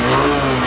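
A brief burst of a Junak M 125 two-cylinder motorcycle engine revving, loud and close with a buzzy, throbbing tone and no voices.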